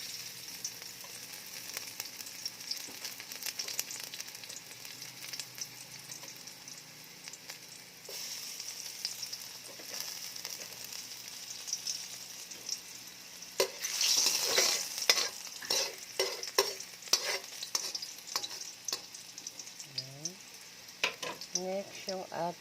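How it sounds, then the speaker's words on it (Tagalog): Garlic fries in oil in a pan for a chayote and glass noodle sauté, a faint continuous sizzle with bursts of stirring scrapes in the later part and a brief voice near the end. "unahin natin syempre yung ating bawang."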